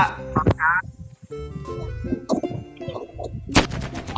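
Gunfire from the Mini World video game, a space-war battle map, in rapid sharp shots among game effects and tones, with a voice talking over it.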